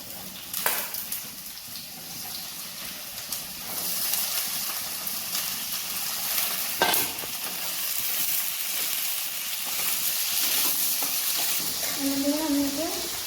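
Potatoes frying in a pan with onions for an egg-potato curry, a steady sizzle and hiss with occasional stirring scrapes, continuous and fairly close throughout.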